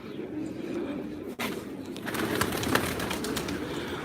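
A large flock of around 400 pigeons, with steady soft cooing and fluttering bustle filling the space, dense and continuous with a brief dip partway through.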